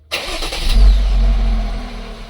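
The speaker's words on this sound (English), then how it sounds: "That's what the factory exhaust, that's what it sounds like" A Jeep Wrangler with its factory exhaust starts up close by, a sharp crank giving way to a deep, loud rumble that settles into a steady idle.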